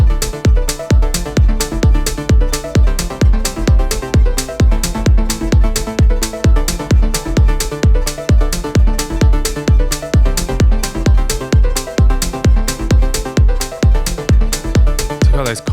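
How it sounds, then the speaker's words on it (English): Live modular synth techno, a steady four-on-the-floor kick pumping under epic detuned chords, loud and driving throughout with a tight repeating rhythm and no voices. "bit more of an epic kind of detuned chord sound"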